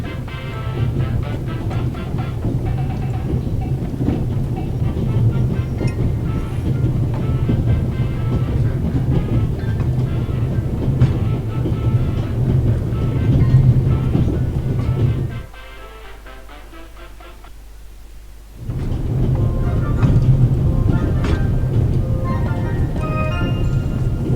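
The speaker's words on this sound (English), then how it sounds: "The noise on this train is driving me crazy." A train rumbles and rattles in a steady, loud drone, drops abruptly to a quieter hum for a few seconds, then returns to the full clatter.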